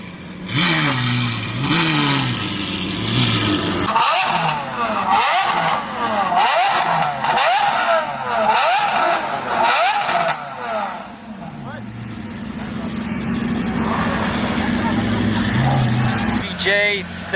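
A Lamborghini Aventador V12 revs hard in repeated rising and falling blips with sharp cracks between them, loud and close, settling into a lower idle rumble while people talk nearby.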